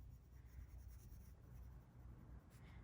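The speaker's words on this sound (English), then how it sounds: "And then I just lay my pencil down on its side a little bit more." Graphite pencil laid on its side shading across paper, a steady soft scratchy rasp that continues close up and quiet throughout with no talking.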